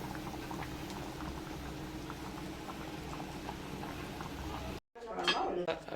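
A pot of coconut-based anchovy fish curry bubbles at a steady boil, close and moderately loud, before a brief silence and a short burst of clattering.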